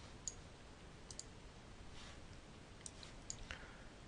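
Faint, crisp computer mouse clicks, including quick double clicks, sound sparsely against a quiet background hiss.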